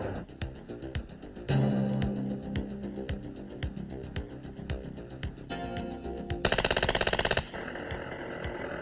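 An FN Herstal P90 submachine gun fires in short sharp reports and one fast automatic burst near the end, set against a droning musical backdrop, fairly loud and close.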